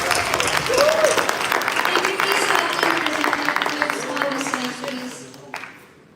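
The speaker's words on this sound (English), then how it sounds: "So let's give a very big round of applause for all these amazing initiatives." Conference audience applauding at the Erasmus Mundus Association annual general assembly, a sustained round of clapping with voices and a cheer or shout mixed in, fading toward the end.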